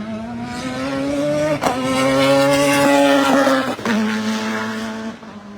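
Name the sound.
race cars passing, including a Lotus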